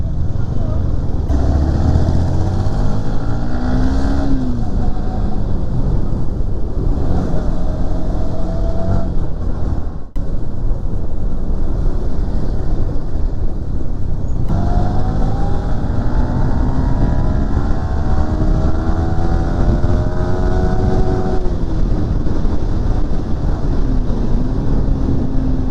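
A modified Yamaha R15 V3 motorcycle is ridden at speed, its engine whining and rising and falling through gear changes, mixed with heavy wind rush.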